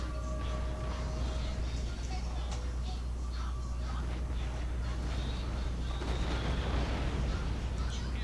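Musket volleys and artillery rumble through a video game battle of line infantry in a Spanish campaign, a dense continuous din of distant gunfire with scattered cracks, while a voice talks over it.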